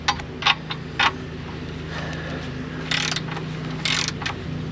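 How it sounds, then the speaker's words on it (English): An Aoben cheap cordless battery ratchet drives bolts on an International 1210 truck chassis being bolted onto a Grand Marquis frame, heard as short ratcheting bursts over a steady mechanical hum, close and moderately loud. "Say what you want about these cheap Amazon battery ratchets"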